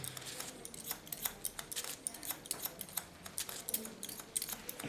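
Scissors snip through hair during a haircut, a quick irregular run of small close, crisp clicks and cuts with no talking.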